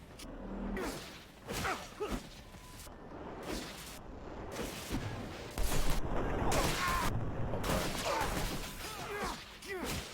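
Repeated bursts of gunfire and impacts in the Technomancer video game, sharp cracks and crashes in uneven clusters, moderately loud over a low background with no talk.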